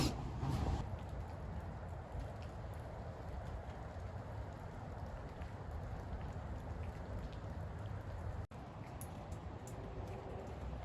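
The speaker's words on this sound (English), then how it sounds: "And it's raining." Steady rain pours outdoors beside a porch with an arched deck roof, a continuous broadband hiss of drops on surfaces with no talking.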